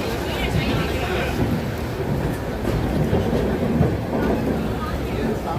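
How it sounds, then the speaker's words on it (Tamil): A Superfast Express train from Coimbatore toward Chennai rumbles steadily from inside a carriage, with a dense, continuous roar and faint clickety-clack, loud and unbroken throughout. "கோயம்புத்தூர் ரயில்வே ஸ்டேஷன் வந்து ஸோ சூப்பர் ஃபாஸ்ட் எக்ஸ்பிரஸ் வண்டி ஏறியாச்சு"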